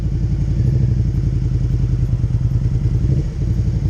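A 2018 Suzuki SV650 motorcycle in first gear with the clutch let out and no throttle, its engine thumping in a steady, close, loud low rumble with a slight dip near the end.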